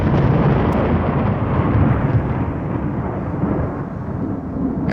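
A crash of thunder used as a sound effect on a children's storybook LP: a loud, sustained, deep rumbling roll that fills the whole stretch and fades only slightly toward the end.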